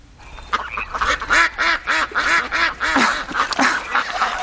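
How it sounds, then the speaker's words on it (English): Ducks quacking in a steady run of repeated calls, close and loud, with a few overlapping quacks and no talk. "ducks have a much gentler approach"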